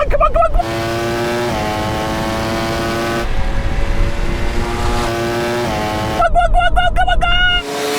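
Audi RS car and Ducati motorcycle drag racing, loud engines revving hard with rising gear-change whines, a high engine note returning near the end, an excited voice shouting over the roar throughout.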